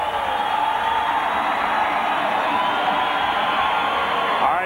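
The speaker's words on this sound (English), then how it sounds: "you hear Alfond Arena crowd one more time pumping up the Bears" Hockey crowd at Alfond Arena roaring and whooping for the Maine Black Bears, a dense, loud and sustained wash of cheering that holds steady and swells slightly at the end.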